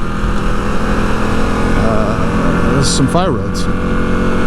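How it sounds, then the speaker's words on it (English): Harley-Davidson Pan America motorcycle engine droning steadily while riding mixed paved and off-road routes on the Front Range, a continuous close rumble under someone talking. "I'm going to be riding the Pan America on some paved roads"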